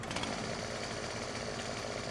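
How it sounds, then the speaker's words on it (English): Continuous harsh, buzzing motor whine of a chainsaw cutting a tree in Farming Simulator 17, steady and fairly loud with no pauses. "I'm going to try it with a chainsaw."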